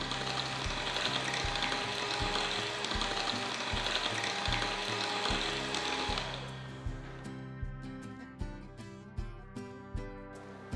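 An electric mixer beats chocolate cake batter with eggs at low speed: a busy whir with a regular thumping churn that becomes a quieter, evenly spaced knocking after about six seconds.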